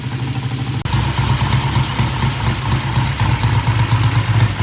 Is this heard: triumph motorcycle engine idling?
yes